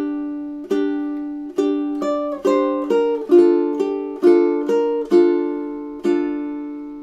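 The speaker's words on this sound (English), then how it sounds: "So measures 11 through to 14 again, quite slowly, would sound like this" Ukulele plucks measures 11 to 14 of March of the Toreadors slowly, about a dozen bright, close notes and small chords in a steady halting rhythm, each ringing briefly before the next, with no talk.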